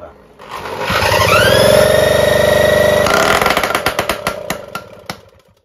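A Solex 5000 moped engine sputters as fuel arrives, a loud steady motor drone for a couple of seconds, then breaking into uneven popping bursts that fade out, close by.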